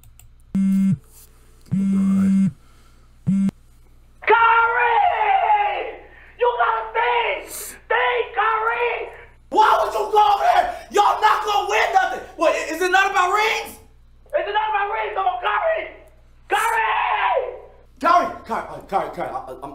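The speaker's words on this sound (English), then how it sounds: "I'm sorry for yelling." A man yells loudly in repeated bursts of raised, strained shouting, close and dominant, with short pauses between outbursts and a few brief tones near the start.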